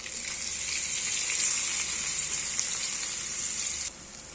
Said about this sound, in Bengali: সব কিছু তুলে নেওয়ার পর তেলের মধ্যে সামান্য একটু বাটার দিয়ে দিচ্ছি। বাটারটা মেল্ট হতে হতে রসুনগুলো দিয়ে দেবো।